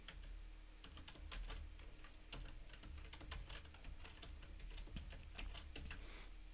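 Password being typed on a computer keyboard during a server login, with a steady run of quick, close, light key clicks and no talking.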